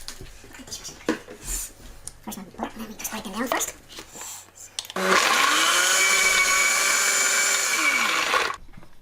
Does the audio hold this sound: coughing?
no